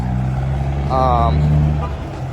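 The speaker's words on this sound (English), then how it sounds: "Hold on, it's pretty loud. The old Schneider company truck." A loud Schneider semi truck engine rumbles nearby with a steady low drone, joined briefly by a higher tonal whine; no one speaks over it.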